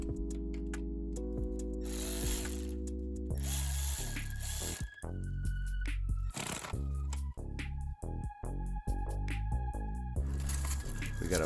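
Ratchet tightening two 10mm bolts on the fuel injector rail of a 1998 Honda Civic, with bursts of rapid close clicking, metallic clinks and tool handling noises over several seconds.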